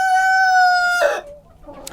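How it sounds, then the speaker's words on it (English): A rooster crows once, loud and close, a sustained call that breaks off into a short rough tail. "I have 4 roosters."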